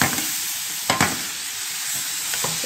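Liver frying with onions and spices in a hot pan, a dense close sizzle with a couple of sharp scrapes as the mixture is turned over.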